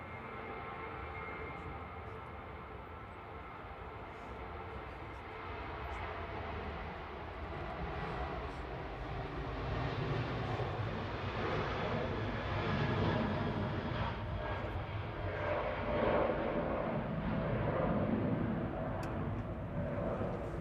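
A Ryanair Boeing 737-800 on its takeoff roll at Manchester Airport, bound for Budapest: a distant, low engine rumble that swells noticeably about halfway through and stays louder to the end.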